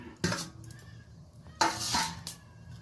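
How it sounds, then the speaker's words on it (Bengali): Fried fish pieces go into a simmering curry in a pan, giving two distinct clattering bursts of utensil and pan contact against a quiet background. "এই পর্যায়ে আমি ভেজে রাখা মাছগুলো সব অ্যাড করে দেব"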